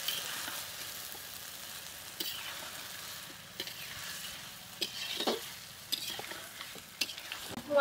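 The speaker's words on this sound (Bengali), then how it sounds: "এখন মশলার সঙ্গে একটু ভালো করে মাছগুলোকেও কষিয়ে নেব" Pieces of fried shol fish being stirred into spice masala in a pan, a steady close sizzle broken by scraping and knocks of the spatula, with no talking.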